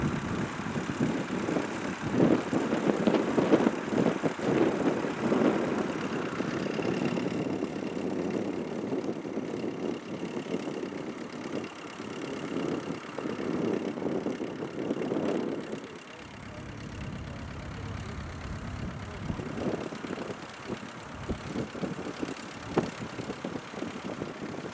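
A little grey Ferguson tractor at a Lincolnshire young farmers' working day runs steadily with a throaty, low rumbling engine note, fairly close, dropping to a quieter idle partway through; no talking is heard.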